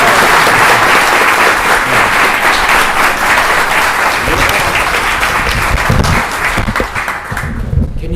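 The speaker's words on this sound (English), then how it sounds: "How about a round of applause for him?" An audience applauds a speaker, a retired lieutenant general, at a hangar talk series; steady loud clapping carries on and then tapers off near the end.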